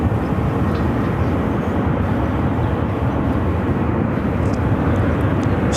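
An American Airlines flight 1012 airliner takes off at Phoenix Sky Harbor: a loud, steady, broadband jet roar fills the whole stretch without letting up.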